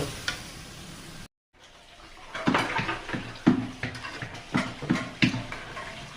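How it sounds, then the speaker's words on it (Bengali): Snakehead fish pieces cooking with new potatoes in spice paste with a pinch of black pepper, loud wet sizzling broken by a short silent gap, then rhythmic stirring scrapes and sputters in the pan, no voices. "মাছটা আমি ভালো করে কষাই নিচ্ছি।"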